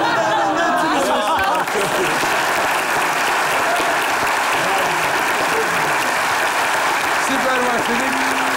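A live comedy show crowd roars with sustained, heavy applause and cheering, loud and continuous throughout, with brief voices heard at the start and near the end.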